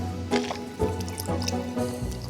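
Mouth rinsing with water after cleaning teeth: wet swishing, dripping and gurgling sounds in several short bursts, close and fairly loud, with no talking.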